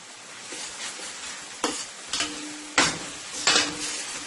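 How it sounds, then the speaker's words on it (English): Tomato paste fries in oil with a soft, steady sizzle, while a utensil scrapes and clinks against the pot in several sharp strokes; quiet and close, with no talking. "So I'm going to let this fry for a couple of minutes until all that nice rich tomato paste is out of my oil there."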